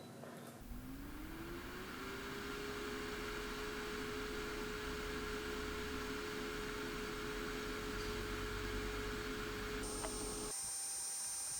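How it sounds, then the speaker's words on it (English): An air fryer runs steadily at 175 degrees Celsius while crisping thin potato slices, a constant fan whir and hum with a steady tone that holds alone for about ten seconds before cutting off abruptly. "air fry the potatoes for an additional 5 minutes"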